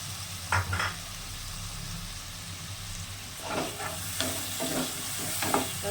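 Tomato and spices sautéing in a pan over medium heat for a potato and chital fish curry, a steady low sizzle with occasional stirring scrapes and clatters, close and without talk.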